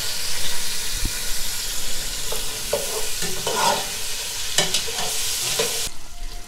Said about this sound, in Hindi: अब इसके अंदर हम थोड़ा गोश्त को भून देंगे।